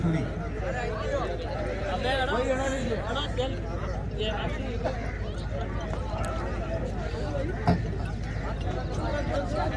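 Horse hooves clip-clop steadily at an outdoor horse show competition at the 2022 Ranakpur Jawai Bandh festival. The hoofbeats are fairly close and sit under constant crowd chatter and talking voices, with one sharper knock near the end.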